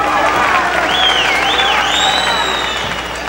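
A boxing arena crowd at a heavyweight bout between Larry Donald and Jeremy Williams cheers and applauds in a loud, continuous roar, with whistles rising above the noise.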